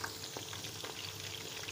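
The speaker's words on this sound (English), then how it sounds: "Now this chicken is frying." Oil crackles and sizzles steadily as raw chicken deep-fries over a low flame, a constant bubbling hiss with small pops, heard close and with no talking.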